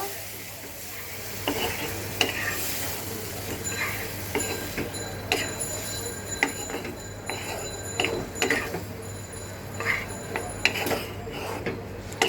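A spoon stirs prawn and potato curry in a pan with a little water added, making a steady frying sizzle broken by repeated scrapes and knocks of the utensil against the pan.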